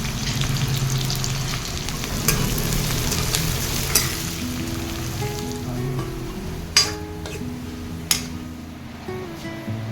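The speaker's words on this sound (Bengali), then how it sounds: "পেঁয়াজগুলো ভেজে বেরেস্তা বানিয়ে নেবো" Sliced onions fry in white oil in a kadai until browned into crisp birista for chicken biryani, a constant loud crackling sizzle with occasional stirring scrapes and a few sharp clanks of a utensil against the pan.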